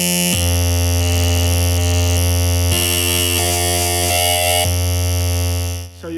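Eurorack noise module with mixed frequency divider outputs, blending low and high tones at once: a loud, harsh, buzzing drone of stacked steady pitches that shifts abruptly several times, with no voices.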